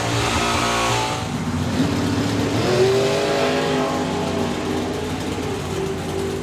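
Drag racing car at a drag strip launching softly, then roaring and accelerating hard, a loud, dense engine howl rising in pitch as it pulls away down the strip.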